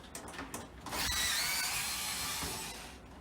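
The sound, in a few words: removing CPU cooler fan from motherboard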